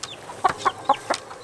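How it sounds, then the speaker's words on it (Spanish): Chickens and chicks clucking close by, several short sharp clucks and peeps spaced about every quarter second, alone without talk. "Entonces usted tiene aquí un pollito que ahora va a salir volando"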